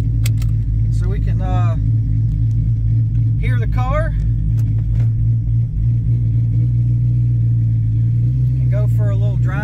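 A TorqStorm-supercharged 5.7 HEMI in a Dodge Challenger runs with a steady, loud low rumble throughout, while people talk briefly over it.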